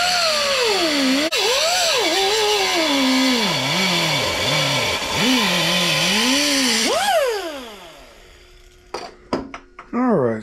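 A power saw cuts metal loose for a steering column holder in a shop, a loud, continuous whine that rises and dips in pitch with the load, then winds down and stops, followed by a few clanks.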